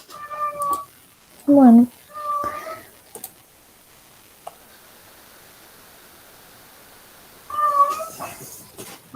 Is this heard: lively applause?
no